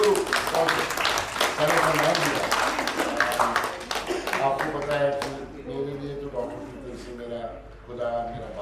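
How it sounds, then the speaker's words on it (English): An audience round of applause at a leadership event, loud clapping at first that fades out while someone speaks over and after it. "Give a big round of applause for my Guru, Senator Nandila."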